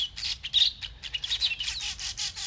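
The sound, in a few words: birds chirping outdoors in the morning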